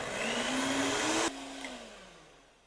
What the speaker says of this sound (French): Et vous mélangez bien avec le mixeur.